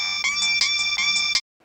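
A mobile phone ringtone rings loudly and close by, a repeating bright electronic melody that cycles about four times before it cuts off abruptly into silence.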